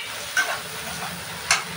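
Potatoes tipped into a pan of frying spices with a little Kashmiri chilli powder give a steady low sizzle, with two brief louder hissing bursts as they hit the hot oil, and no talking.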